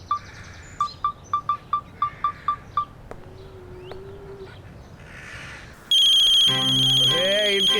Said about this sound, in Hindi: किसका फोन आ गया भाई?